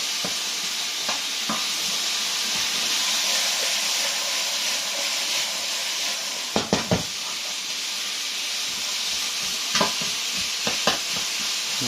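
Onion, bamboo shoots and bell pepper stir-frying in a pan: a steady loud sizzle and hiss throughout, with occasional clanks and scrapes of stirring, and no talking.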